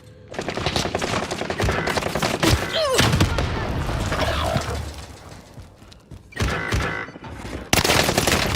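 Hostile gunfire in a first-person video game, dense loud automatic bursts and mechanical clatter running almost continuously, with brief lulls and a final burst, and little speech.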